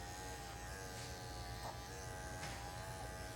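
Electric clippers shaving a female black Schnauzer dog give a steady close buzzing hum that runs without a break.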